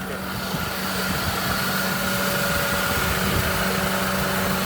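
A 2008 Mercedes with a 1.8 Kompressor engine runs at idle at an outdoor car market, a steady even mechanical hum with light vibration, close and continuous without talk.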